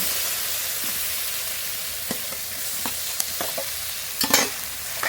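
Fried potato and cauliflower pieces are stirred into hot, sizzling masala in oil, a steady frying hiss broken by scattered spoon scrapes and clatters, with a louder burst of stirring near the end; no one speaks.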